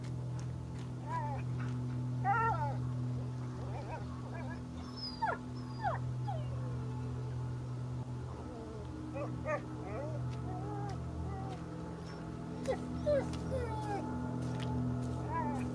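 A dog in the video game A Plague Tale whimpers and whines in short, high, wavering cries over a steady low hum, with voices speaking at times.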